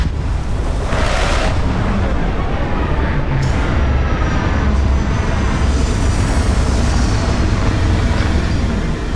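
A spaceship lands with its landing gear in the video game Starfield, making a loud, continuous deep engine rumble with a brief airy whoosh near the start, sustained throughout.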